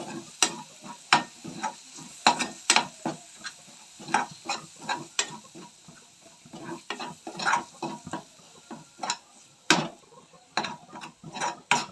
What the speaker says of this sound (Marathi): एक चम्मच छान मिक्स करून घ्यायचं आहे